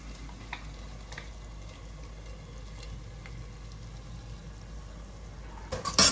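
Ground spice paste and tomatoes for a mutton head curry sautéing in a pan over high flame, a steady low sizzle with faint ticks, growing louder with stirring scrapes at the end.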